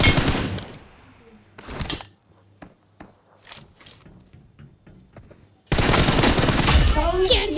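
Video game gunfire in a team deathmatch, with loud automatic bursts at the start and end and scattered single shots and clicks through a quieter middle stretch, without speech.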